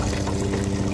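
Liquid pouring steadily from a container while collecting water outdoors, a close, continuous gurgling stream for about a second.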